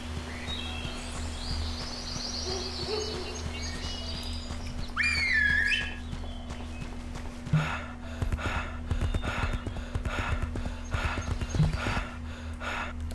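A horse in the online martial arts game 9Yin gallops with a steady clip-clop of hooves, and a neigh and a whistle come before it. Synthetic tones drone underneath.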